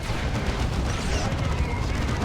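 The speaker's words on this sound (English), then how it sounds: "There's Wraith Cannon Volley doing some work." Wraith Cannon volleys firing in the Warhammer 40,000: Dawn of War 2 real-time strategy game, a dense continuous rumble of booming blasts and energy shots in a 3v3 battle, with a commentator's voice faintly underneath.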